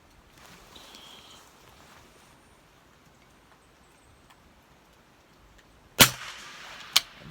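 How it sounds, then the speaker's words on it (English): A Wischo (Voere) .22LR rifle fires at spinner targets 50 yards away outdoors; two sharp, fairly faint shots about a second apart follow several seconds of quiet ambient noise. "But I'll take some shots."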